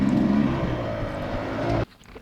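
A dirt bike engine revs and drones loudly while riding, holding a steady pitch before cutting off abruptly near the end.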